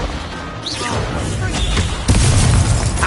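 A fire spell blast from the Hogwarts Legacy video game, with a dense burst of game noise that swells into a louder thumping impact about two seconds in amid ongoing combat clatter.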